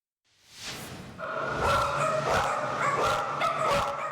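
Dogs in a crowded animal shelter bark and yip repeatedly, several overlapping voices close by, rising after a quiet start and continuing loud and steady with occasional whines.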